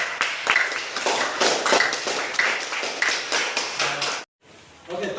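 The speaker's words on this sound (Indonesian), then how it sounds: "Oke, tepuk tangan dulu Kak untuk ini." A classroom of students applauds in a Indonesian school lesson, a burst of many overlapping claps going for about four seconds before stopping abruptly, with brief talk after.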